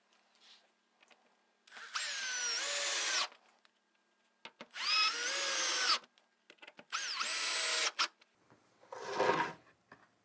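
A power drill drives screws into a glued wooden batten while a dry toilet is being built, giving three loud, whining bursts of about a second and a half each with rising and falling pitch, then a shorter, duller burst. No voices.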